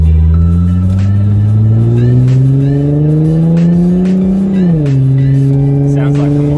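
A car accelerates while driving, its engine note climbing steadily before dropping at a gear change and climbing again, loud and close from inside the cabin.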